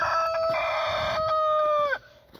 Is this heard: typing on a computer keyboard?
no